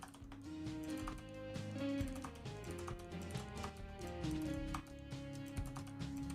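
Computer keyboard typing, a quick run of faint taps set over steady background tones with no speech.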